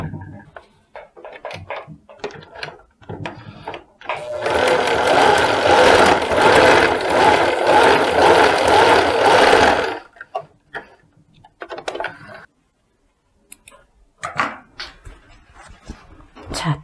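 Sewing machine stitching a folded 1 cm edge while altering a trouser waistband, a dense rapid mechanical whir running steadily for about six seconds, framed by scattered handling clicks and taps of fabric before and after.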